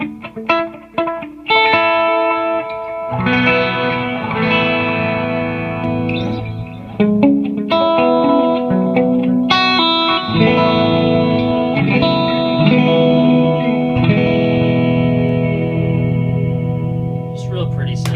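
Electric guitar played through a Koji compressor setting and tape delay pedals on a pedalboard, a steady run of sustained, chiming chords and notes with echoing repeats, loud and continuous for the whole stretch with no talking.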